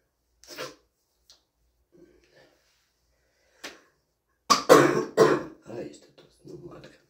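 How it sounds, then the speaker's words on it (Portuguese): A few scattered throat-clearing sounds, then a loud burst of harsh coughs close by, trailing off into quieter coughs and breaths. "esta tosse não larga"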